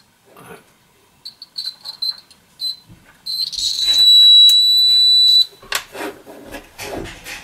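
A steady electronic buzzer whines for about a second and a half as a circuit is completed through a small piece of aluminium, amid handling clicks and scraping, with no talking.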